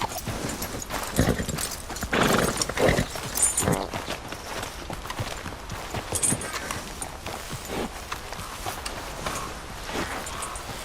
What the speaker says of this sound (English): The Tennessee Walkers are a medium-sized horse, and this one looks like the Arabian's big brother